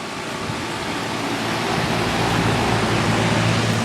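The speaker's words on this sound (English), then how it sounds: "You hear the compressor." A 2004 Armstrong Air Concept 1000 central air conditioner, 1.5 ton, 10 SEER, runs its compressor with a steady broadband whoosh and low hum, constant and close throughout with no talk.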